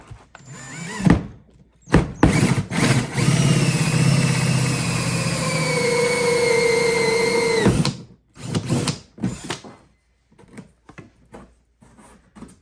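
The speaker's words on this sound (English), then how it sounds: "now I'm gonna drill the hole for this plug to run through the side of his kayak" A power drill with a 2-inch hole saw whines steadily for several seconds, its pitch dropping as it bites through the side of an Ascend 133x kayak, bracketed by short bursts of handling noise and clatter.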